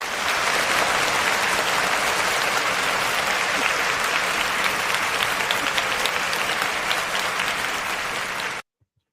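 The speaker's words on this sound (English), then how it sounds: "Let's give a round of applause to Khadijah." A sustained round of audience applause for a woman named Khadijah, loud and dense clapping from a crowd holding steady for about eight and a half seconds before cutting off abruptly.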